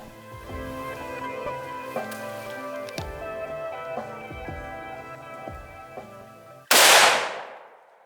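A single loud, sharp rifle shot fired while hunting a red deer hind on Stewart Island bursts out near the end, its crack decaying into a rolling echo over steady outdoor background sound.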